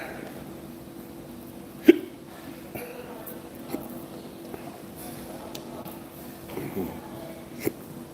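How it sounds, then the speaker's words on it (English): A person hiccups after eating bread too fast, one sharp, distinct hiccup early on followed by a few fainter small sounds in a quiet indoor space. "If I eat bread too fast, I get the hiccups."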